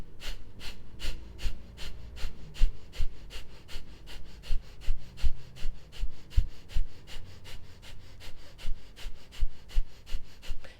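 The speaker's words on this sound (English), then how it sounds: "you can look up skull shining breath" Kapalabhati, the skull shining breath of yogic breathwork: a long run of rapid, forceful nasal exhalations, about three per second, each a sharp rushing puff in a steady unbroken rhythm, close and alone.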